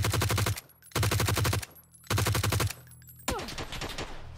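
Three loud bursts of rapid automatic gunfire from a PUBG match on Xbox Series X, each about half a second long with short pauses between them, followed by a softer rattling tail of shots.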